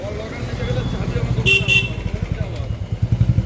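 A motorcycle engine idling and revving close by on a bike ride on Independence Day, with a steady pulsing thrum, a brief horn-like tone midway and people talking over it.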